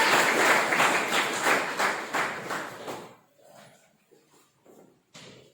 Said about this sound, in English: Give a huge round of applause for Jayant sir.